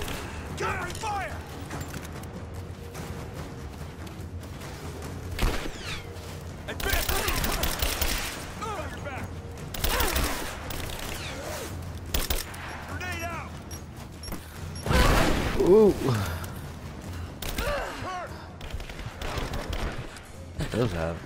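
Bursts of gunfire and mechanical clatter in a Tomb Raider action sequence, loud intermittent volleys mixed with players talking and game noise.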